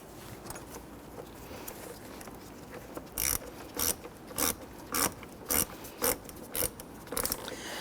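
Ratchet wrench snugging the battery terminal nut on a Honda Ridgeline, a series of about nine sharp, evenly spaced clicking bursts close to the mic after a quiet start, with no talk.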